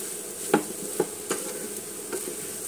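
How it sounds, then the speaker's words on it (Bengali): Noodles being stir-fried in a pan, a soft sizzle under a few distinct scraping stirs of a utensil spaced across the clip, quiet and close. "এভাবেই আমি নুডলসটা নেড়ে চেড়ে একদম ঝরঝরা করে রান্না করব।"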